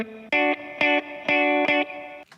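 Retro synthpop music with a long reverb tail, its sustain pushed up by a transient shaper: four loud sustained synth chord stabs in steady rhythm, each ringing into a swelling wash of reverb before a softer fade at the end.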